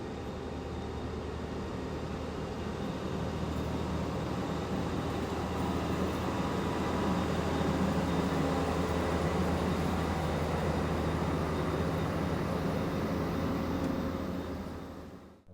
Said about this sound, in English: we watched for a little while as the various shunting moves were executed